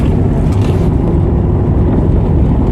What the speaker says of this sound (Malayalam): വണ്ടി ഇപ്പോൾ റഫ് റോഡാണ്. നല്ല കോൺക്രീറ്റ് റോഡാണ്.